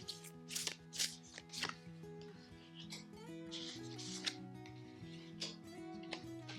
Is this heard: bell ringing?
no